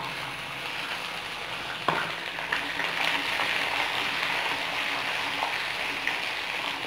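Garlic sizzles and crackles in hot oil for a Tamil onion curry, a steady close frying hiss with a sharp pop or two as it goes in.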